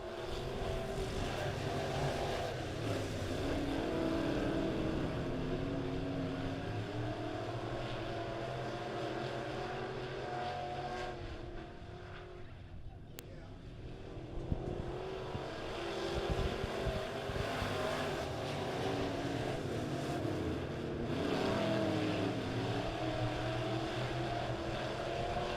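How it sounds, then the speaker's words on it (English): Midwest Modifieds A-Class race cars pack around the quick quarter-mile at Springfield Raceway, a continuous loud engine roar that holds steady for the whole stretch with a brief dip midway, no voices. "green flag is back out, and we're underway with racing action"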